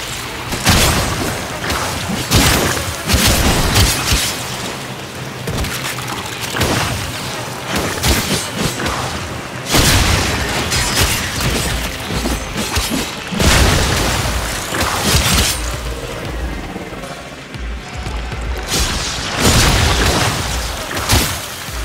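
Gunfire and explosions tear apart an infestation hive in the sci-fi shooter Warframe, dense and continuous over about twenty seconds with repeated heavy booms and crashing bursts layered under a constant loud barrage.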